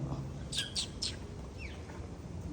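Birds call in Wollongong Botanic Garden, Australia: a few quick, faint chirps in a short burst, then a lone thin call, heard at a distance over quiet outdoor ambience.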